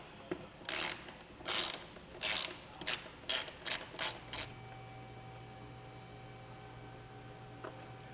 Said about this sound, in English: just going to use the same socket and ratchet I used for the fender liner